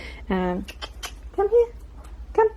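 A 9-week-old puppy gives high, thin whines and squeaks in a few short bursts, close by, while a person speaks softly to it.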